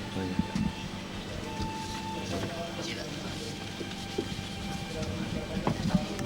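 A passenger train travelling from Yogyakarta to Ponorogo rumbles steadily from inside the carriage, with low rolling noise, occasional clicks and knocks, and people talking over it.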